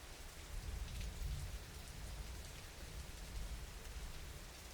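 Steady rain falls in the mountains of northern Albania, a faint, even hiss of drops with a low rumbling undertone and no voices.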